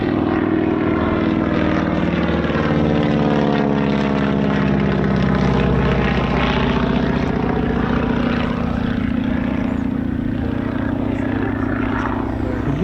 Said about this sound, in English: Brian Smith and Paul Bonhomme, Mustang and Messerschmitt, put your hands together.